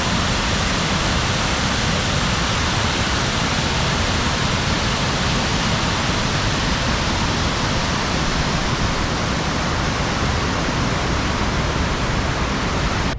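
A waterfall at the New York Botanical Garden roars in a loud, steady rush of falling water, close by and unchanging, with no voices over it.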